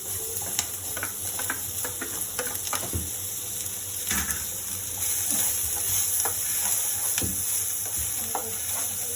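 Onion and capsicum fry in a pan with a continuous close sizzle, broken by scattered sharp clicks and scrapes of stirring, no voices.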